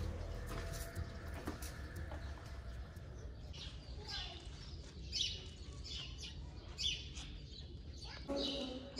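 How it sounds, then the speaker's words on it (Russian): Sparrows chirp in scattered bursts over a steady low rumble of background noise, with faint voices in the distance, in Luxor, Egypt. "Птицы поют, воробьи."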